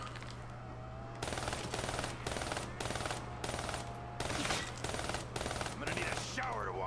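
Gunfire in Black Ops 3 Zombies: a slow, regular series of shots, evenly spaced about every half second, moderately loud over a steady game hum.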